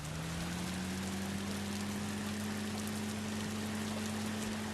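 A car engine in the Roblox Bloxburg video game drones as a steady, continuous synthetic hum with a slowly rising tone, loud and unbroken throughout with no talking.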